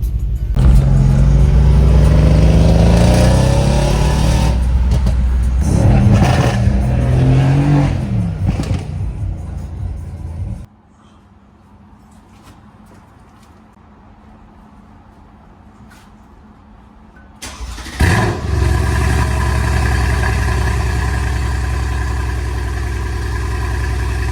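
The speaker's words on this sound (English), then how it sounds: "Now I hope you guys enjoyed that cold start" A Mercedes-AMG C63s fires up cold and idles loudly with a deep, rumbling, uneven burble, cuts to near silence for several seconds, then returns to a steady heavy idle close by.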